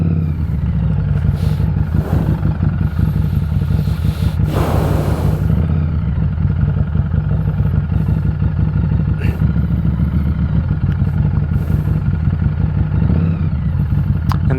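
A Harley Davidson Street 500 motorcycle ridden at night, its mid-pitched engine droning steadily and up close throughout, with clattering and brief rises in revving and a spell of wind or road noise partway through.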